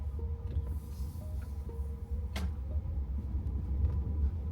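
Inside a BYD Seal Dynamic electric car driving at night, the cabin holds a steady low road rumble with a brief faint chime, and no one talks.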